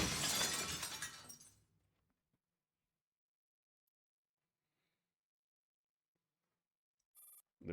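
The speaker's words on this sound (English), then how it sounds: "Next to her lies a shattered glass." Glass shattering in a video game: a loud, bright crash that decays over about a second and a half into near silence, followed by a brief high-pitched tone near the end.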